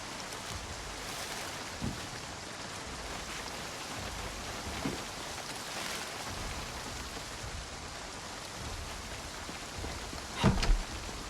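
Rain falls steadily in the zombie survival game Project Zomboid, a soft continuous hiss with a few faint thumps and a brief louder patter near the end, no talk.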